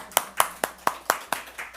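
Seven sharp claps in a steady rhythm, each spaced about a quarter second apart, fairly close and moderately loud, from people applauding a correct answer during a church Bible quiz.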